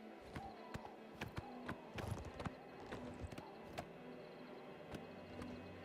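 Horse hooves clip-clopping in The Elder Scrolls IV: Oblivion Remaster on PS5, quiet, irregular sharp knocks scattered among soft ambient game sound.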